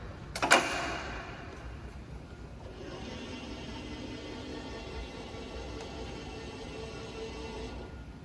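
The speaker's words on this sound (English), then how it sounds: "in this case, we got to open the door, close it" The door of a Robopac Robot S7 stretch-wrapping machine is worked, with one sharp clunk near the start followed by a steady machine hum.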